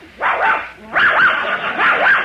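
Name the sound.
dog barking sound effect in a radio comedy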